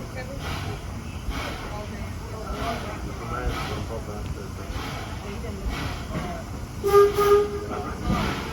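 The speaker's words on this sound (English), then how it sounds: "Please stay in your place as the train is moving." A Greenfield Village heritage train rolls along with a low, steady rumble and clatter, while an announcer talks over it and a brief tonal whistle sounds near the end.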